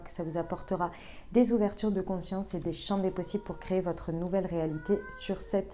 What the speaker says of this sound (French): C'était le chat, pardon, si vous entendiez le chat miauler.